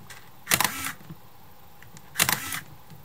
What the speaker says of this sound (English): It's got a nice kind of click chunk to it, which I really like.